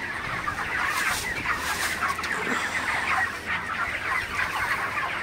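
Broiler chickens on a poultry farm cluck and chatter continuously, a dense flock sound that stays steady and fairly loud throughout with no voices.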